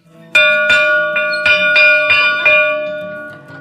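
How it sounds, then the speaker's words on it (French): A bell rung at Glenkinchie whisky distillery in Scotland to start a tour: about eight bright, ringing strikes at a brisk, slightly uneven pace, each leaving a long metallic hum that fades slowly, loud and close with no talk. "À Glenkinchie, les visites débutent toujours en sonnant la cloche du drumming."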